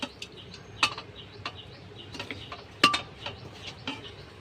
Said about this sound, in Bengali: তো মাংসটা আমি এবার প্রেসার কুকারে দিয়ে দিচ্ছি